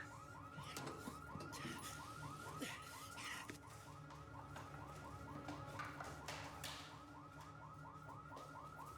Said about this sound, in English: Mason, you didn't say anything about a security system